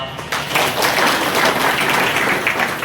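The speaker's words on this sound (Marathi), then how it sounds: "सिस्टीम साठी टाळ्या वाजवा" Villagers at an Akhand Harinam Saptah gathering break into applause, a dense burst of clapping that swells quickly and holds steadily at close range for a few seconds.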